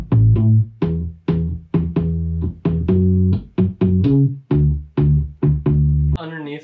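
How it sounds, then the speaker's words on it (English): A Fender Mustang bass plays a steady line of plucked, punchy low notes, each cut short before the next, in a regular rhythm; close and full, ending with a brief burst of other sound. "we played it on this bass, the Mustang, which ended up sounding like this"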